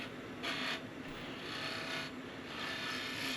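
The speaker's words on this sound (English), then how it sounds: "now I'm just going to do a little quick scrape backwards" A woodturning scraper rasps across a spinning single-piece wooden yoyo on a lathe in a steady, continuous scrape, with a few slightly stronger passes and no talking.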